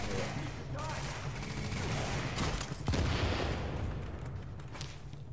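Dense gunfire rattles on with booming explosions in the video game The Division, a continuous loud barrage of shots with a heavier blast near the middle and players talking over it.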